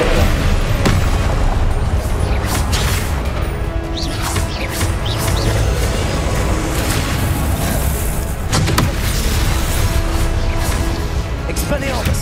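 Fiery blasting-spell explosions in the Hogwarts Legacy video game, booming repeatedly amid dense, continuous combat noise, with bursts and crackles layered over a loud, busy mix.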